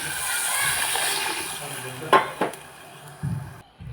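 Water is poured steadily into a pot for khichdi, a continuous rushing splash, followed by a few sharp metallic clanks of the vessel.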